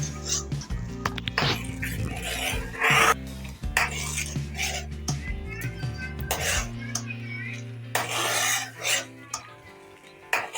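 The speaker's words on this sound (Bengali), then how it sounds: "দুধটা ঘন ঘন নাড়াচাড়া করতে হবে।" Milk boiling in a pot on the stove while being stirred, with repeated scraping and rasping strokes against the pot bottom, close and fairly loud, mixed with clinks and bubbling.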